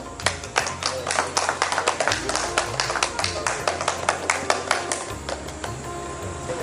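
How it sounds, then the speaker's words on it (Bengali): Audience clapping for four contestants on a Bengali regional game show, a steady patter of many hands with sharp individual claps standing out, fairly close and sustained throughout with a low hum beneath. "আমাদের 4 জন প্রতিযোগীর জন্য একটা জোরে হাততালি হোক"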